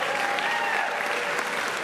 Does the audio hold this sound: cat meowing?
no